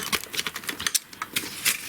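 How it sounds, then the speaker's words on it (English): Non-stick scissors snip through very sticky double-sided foam tape in a rapid string of close, crisp clicking cuts, loud and with no voice over them. "I'm using my non-stick scissors"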